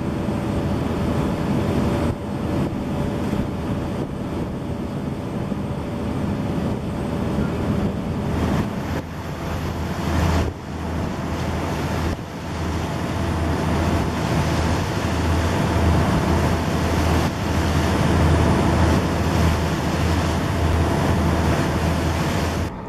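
Boat engines drone steadily as a boat speeds out to sea on the Beagle Channel, with wind and rushing water mixed in for a long, continuous roar and no talk.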